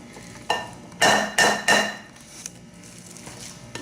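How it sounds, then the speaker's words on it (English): Avocado being gently stirred into a crab meat stuffing in a bowl, giving several soft, close scraping and clacking strokes of a utensil in a short rhythmic burst, then quieter, with no talk. "Gently mix your avocado in."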